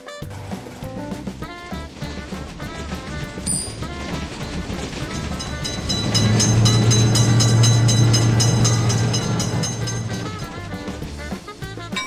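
At a road level crossing with a gate for cars, repeating pulsing tones play before a train rolls through, its heavy rumble and steady low drone swelling loud midway and then easing off toward the end.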